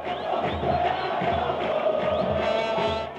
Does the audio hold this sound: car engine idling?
no